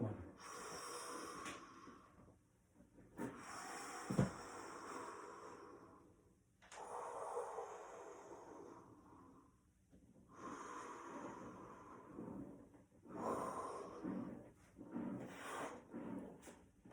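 Slow, deep breaths during a yoga exercise, soft and close, alternating long inhales and exhales in a steady rhythm with quiet pauses between.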